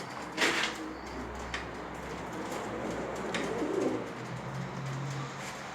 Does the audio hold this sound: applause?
no